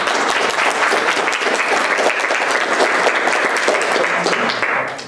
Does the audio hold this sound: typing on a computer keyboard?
no